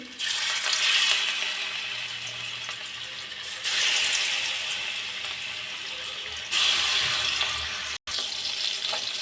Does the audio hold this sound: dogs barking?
no